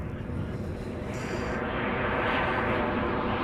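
Jet airliner noise at Amsterdam Schiphol as a KLM flight operated by German Airways arrives from Prague, a steady broadband roar that holds constant throughout with no talk.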